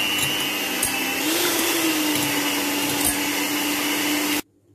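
Eggs being mixed for sponge cake batter with a steady, loud motorized whir that holds an even pitch for about four seconds, then cuts off abruptly.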